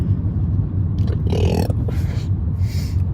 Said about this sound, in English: I'm burping too